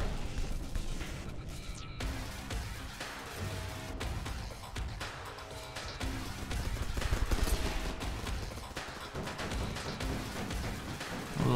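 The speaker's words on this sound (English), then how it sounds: "Little AA guns." Anti-aircraft guns blaze away in the naval combat game From The Depths, firing dense, rapid bursts that run without a break into a loud, continuous barrage.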